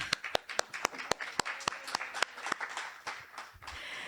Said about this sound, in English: Another round of applause for Karie.